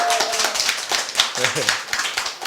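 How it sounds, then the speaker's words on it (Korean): A lecture audience gives a short burst of scattered clapping, sharp uneven hand claps close by and fading out, with a speaker's voice talking over them. "박수 안 쳐요?"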